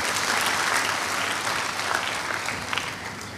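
A church congregation breaks into loud, sustained applause, a dense wash of many hands clapping at once that holds steady for a few seconds before easing slightly.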